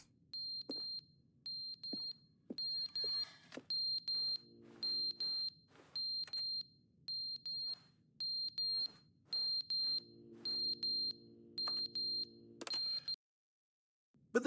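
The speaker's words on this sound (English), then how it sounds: "what's that beeping noise?" Repeated electronic beeping in The Stanley Parable, short even alarm-like pulses sounding at a steady rhythm for several seconds, then stopping abruptly.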